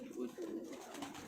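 Pigeons coo softly, low rolling calls from fancy breeds kept by a keeper, heard close but faint with someone talking over them.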